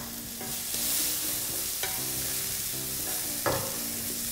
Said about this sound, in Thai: นำถั่วงอกลงไปผัดค่ะ